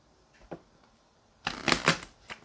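A quick riffle of tarot cards after a soft tap, then a short burst of brisk shuffling close by, ending with a final flick.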